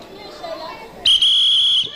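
A referee's whistle blown once to start a children's race on a 1988 Brazilian Sunday TV variety show, a sharp sustained shrill blast lasting nearly a second, rising abruptly out of soft crowd chatter.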